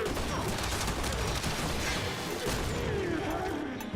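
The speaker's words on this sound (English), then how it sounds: "That explosion is not small" A large explosion in the Warframe video game amid constant gunfire, dense booming blasts and crackling shots filling the whole clip loudly without pause.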